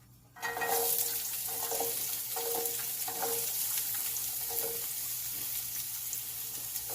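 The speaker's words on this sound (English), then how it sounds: "Let's go ahead and put in your garlic and onions chopped." Chopped garlic and onions hit very hot oil in a pot for Trinidad corn soup, bursting into a sudden loud sizzle that settles into a steady, close crackling hiss with occasional faint stirring clinks.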